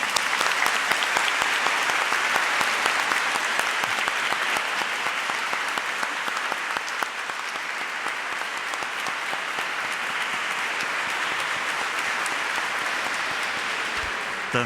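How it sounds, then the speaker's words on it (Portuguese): A church congregation at Mass applauds in a dense, sustained round that fills the room, continuous and fairly loud, easing slightly in the second half. "para eles eu peço uma grande salva de palmas."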